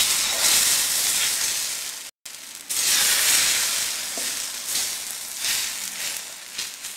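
Dosa batter sizzling on a hot griddle over medium-high flame, a loud close hiss broken by a brief silence, then surging again and tapering off unevenly.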